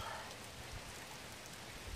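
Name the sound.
rain falling at a campsite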